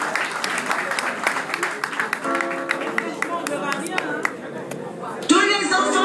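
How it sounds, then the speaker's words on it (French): At a church party in Paris, scattered clapping for a singer rings out in crisp bursts under an announcer's voice and background music. "Pour commencer, applaudissements pour elle,"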